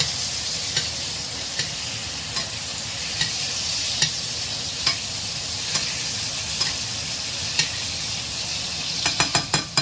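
Wagyu steak searing in a pan with butter gives a steady, loud sizzle and hiss, with soft regular spoon taps as the butter is basted and a quick run of clicks near the end.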